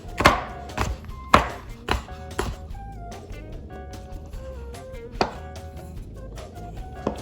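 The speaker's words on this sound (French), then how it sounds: "on va couper des petites tranches comme ça" A knife slices food into thin strips for a lunch wrap, each cut landing as a crisp chop on the board, several in an uneven rhythm with quiet pauses between, close and clear.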